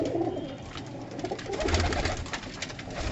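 Pigeons coo in a rooftop pigeon-keeping setup in Amritsar, soft overlapping throaty calls repeating over a few seconds amid light background noise, with no speech.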